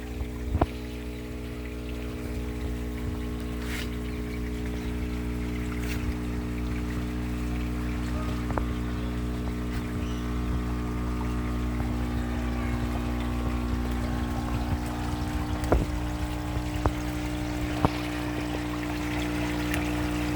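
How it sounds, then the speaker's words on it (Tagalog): Continuous steady mechanical hum of an LP100 aerator pumping air into a catfish pond, with a bubbling, churning water wash underneath, constant and unchanging throughout. "Yan po yung aerator namin ng LP100."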